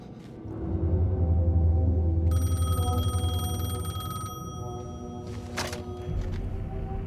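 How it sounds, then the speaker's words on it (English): Payphone ringing in the video game Alan Wake 2, a bright electronic trill rising out of a low, rumbling ambient drone and repeating steadily for a couple of seconds. "The payphone was ringing."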